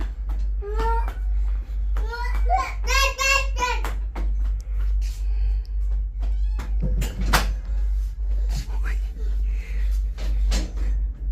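A hungry kitten gives a run of high, loud meows in quick succession early on, then quieter scattered mews and household knocks follow over a constant low hum, with a person speaking.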